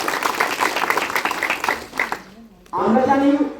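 An audience claps at a farmers' rally in Mog Bazar: dense, steady applause for about two seconds that fades out, then a voice starts speaking.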